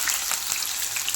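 Chopped onions sizzle steadily in a hot pan as a chicken masala fry begins, a close, continuous crackling hiss with no talk.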